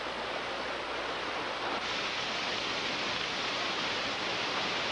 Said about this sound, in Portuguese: Subimos por uma cachoeira.